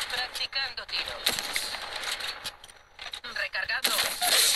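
Rapid bursts of gunfire from the mobile battle royale game Apex Legends Mobile crackle in quick irregular volleys, with a voice speaking between and over the shots.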